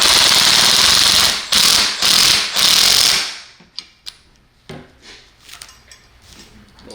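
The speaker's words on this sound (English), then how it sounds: "Tighten it down." Bolts on a 12W explosion-proof surface-mount LED light fixture being tightened with a socket, with a loud sustained power-tool whir in bursts, then quieter metallic clinks and taps nearby.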